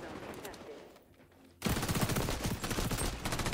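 MP7 submachine gun fire in the shooter game XDefiant, a near, loud stream of rapid automatic shots that starts abruptly after a quieter stretch of distant gunfire and keeps rattling to the end.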